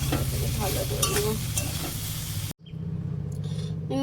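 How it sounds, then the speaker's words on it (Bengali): Soybean chunks fry in a pan seasoned with salt and turmeric, giving a loud, steady sizzle with scraping stirring strokes. The hiss stops for a split second midway, then resumes just as strongly. "এখন সয়াবিনটা ভাজা হয়ে গেছে।"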